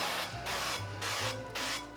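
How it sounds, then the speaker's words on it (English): Faint cooking spray hissing onto an 8x8 baking dish in several short sprays with brief pauses between them, close by and quiet, with no talking. "Now we are using an 8x8 baking dish. I am spraying it."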